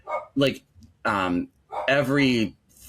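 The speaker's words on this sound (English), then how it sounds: "That's my dog." A dog barks and yips several times at close range, each call a drawn-out, voice-like whine-bark separated by short gaps, with no people speaking.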